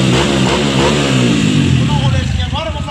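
A Honda CG160 motorcycle fitted with a programmable TBI fuel-injection kit revs up loudly and continuously, its engine note rising and wavering close by while someone talks over it.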